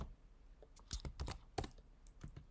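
An email is typed into a contact form on a computer keyboard, a short, quiet burst of close key clicks in an uneven rhythm with no talking.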